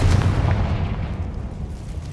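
A Confringo blasting spell explosion in the Hogwarts Legacy video game, a heavy booming blast that rolls into a dense, slowly fading low rumble.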